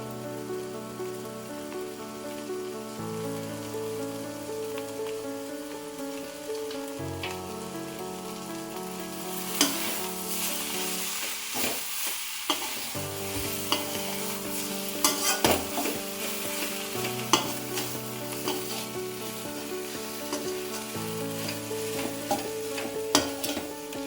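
Masala with chilli powder, garam masala and salt sautéing in a pan for masala bread, steady close sizzle and frying crackle with occasional stirring scrapes and clinks, no voices.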